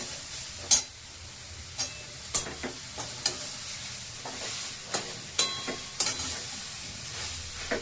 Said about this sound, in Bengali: এই গাজরটা দিয়ে এখন ভাজছি